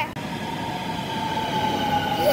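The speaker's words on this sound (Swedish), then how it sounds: "Nu kommer tåget." A train pulls into a station on a route from Hamburg toward Lübeck, giving a steady rolling rumble with a high tonal whine and faint squeal that grows slightly louder near the end, heard alone without talk.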